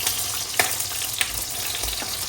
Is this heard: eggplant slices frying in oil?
yes